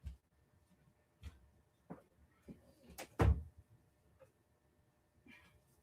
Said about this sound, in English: I need to go over here and close the door